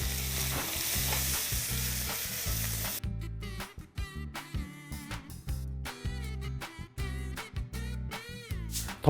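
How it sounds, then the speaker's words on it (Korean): Beef stir-fries with paprika, shishito peppers, mushrooms and garlic for a miso rice bowl, starting as a dense, loud sizzle and breaking into choppy bursts of stirring and scraping in the pan. "파프리카, 꽈리고추, 양송이를 넣어서 같이 볶아주시겠습니다"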